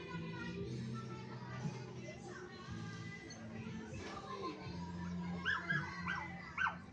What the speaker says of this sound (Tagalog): hanggang dito pala may aso siya. Dami ng aso dito